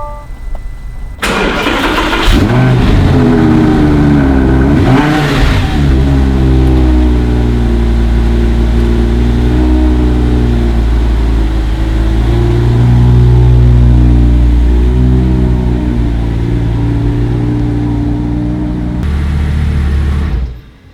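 A 2012 Audi R8 with a V10 and gated manual gearbox barks into life, then settles into a loud, steady idle and rumbles off in low gear, with a brief blip of revs early on, close up from inside.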